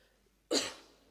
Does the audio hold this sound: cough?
yes